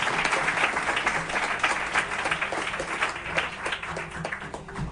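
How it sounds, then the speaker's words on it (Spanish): Steady applause from a studio audience welcoming a guest, many hands clapping densely and evenly for several seconds with no talk over it. "un fuerte aplauso para José Juan Montejo"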